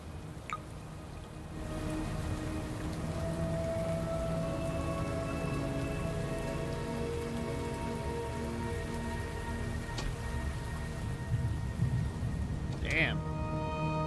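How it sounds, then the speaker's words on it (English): Steady rain patters and drips across surfaces in the video game Shadows of Doubt, a continuous moderate hiss with a few sharper drops, while people talk over it. "Let's just go through while it rains."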